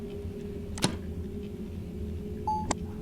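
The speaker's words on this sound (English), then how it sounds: "each one of these beeps" Short electronic beeps from a puzzle in the Rhem 2 video game: a sharp click-like blip, then a brief steady tone and another bright blip, all clear over a faint background hum.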